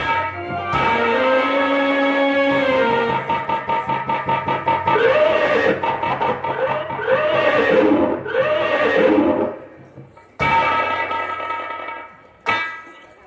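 A horse whinnies loudly and close, with long wavering neighs repeating over several seconds amid a dense, ringing musical backdrop in a staged folk-theatre production.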